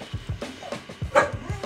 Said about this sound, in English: No, no, what are you barking at?